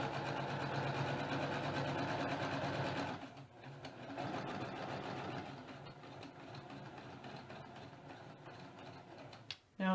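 A sewing machine stitches steadily down one side of a quilt square, chain piecing with a 1/4 inch foot; the rapid motor whir runs loud and continuous, drops briefly around three seconds, then carries on slightly softer before a short stop at the end.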